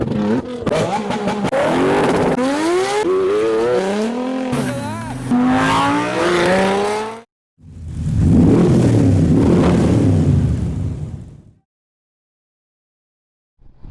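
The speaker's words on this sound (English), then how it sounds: "Aston Martin drift car" An Aston Martin drift car's engine revs hard with squealing tires, loud and close, then cuts out before a second burst of rumbling, skidding engine noise that fades to silence.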